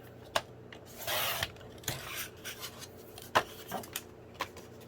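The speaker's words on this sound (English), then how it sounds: "pull my cutter out again, and I'm going to take off 1/2 inch from the front" A paper cutter trims half an inch off the front of a file folder folio journal, heard as a short sliding cut followed by scattered clicks and taps from handling the cutter and paper.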